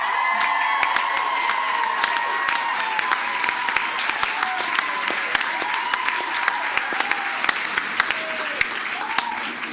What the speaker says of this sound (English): Expecting just a small cheer for this one,